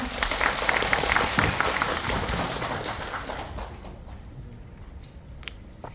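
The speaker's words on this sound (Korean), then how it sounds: "큰 박수 부탁드리겠습니다" A room of residents applauds at a community meeting about urban redevelopment, with dense, loud clapping that gradually thins and fades to scattered claps by the end.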